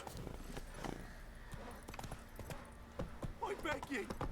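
Geralt's horse Roach in the video game Witcher 3, hooves clip-clopping in an uneven run that grows busier near the end, with a voice speaking over it.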